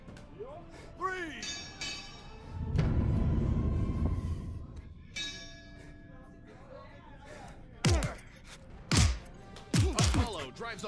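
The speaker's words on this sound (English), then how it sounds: "Apollo drives a hard punch right to his opponent" Punches landing in a Saturday Fight Night boxing video game: several heavy thuds and sharp impact hits bunched toward the end, following quieter in-game sounds and a low rumble, with a commentator talking between blows.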